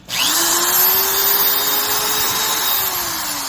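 A Milwaukee decking and remodelers screw gun runs steadily for a few seconds with a loud, even motor whine that spins up, holds and starts to wind down, close up and with no talking.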